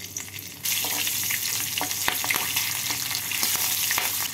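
Two green chilies and half a teaspoon of nigella seeds hit hot oil, setting off a sudden loud sizzle that keeps crackling and spitting with sharp pops over a steady frying hiss.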